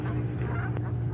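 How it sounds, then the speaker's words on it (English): Geese fight near JFK airport, giving a couple of nasal honks over a constant low rumble of airport and engine noise. "Oh, these geese are fighting."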